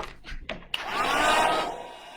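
After a few soft knocks, a hair dryer starts up and blows a brief, moderately loud whoosh to dry wet paint on an art piece. It swells and then eases off slightly, with no voices.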